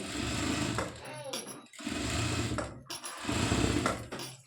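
Sewing machine running in bursts while stitching lace onto the edge of a simple-design blouse, three loud sustained runs separated by short pauses.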